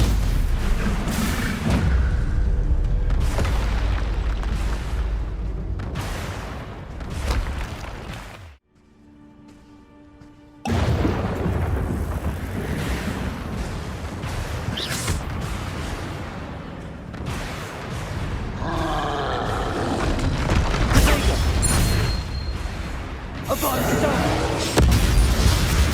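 Hogwarts Legacy spell combat with Confringo and Bombarda blasts: dense, loud booms and bursts pile up in a continuous barrage of game explosions, broken by a brief near-silent gap partway through, with game voices mixed in.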